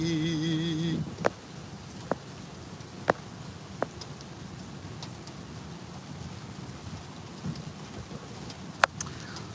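Steady rain pours down outside a parked car, a dense even hiss with scattered louder drops and knocks throughout, after a brief electronic chime at the start.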